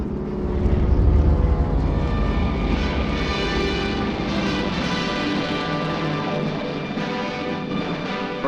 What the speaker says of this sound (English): an Air Transport Command plane takes off every 6 minutes, loaded with artillery, jeeps, ammunition, men and supplies for the armies of China